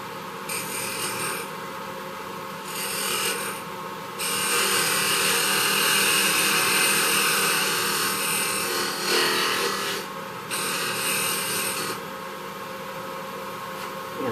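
Skew chisel cutting wood on a spinning lathe to square it, a continuous scraping, rasping hiss that rises and drops as the blade engages and lifts off, over a steady motor hum.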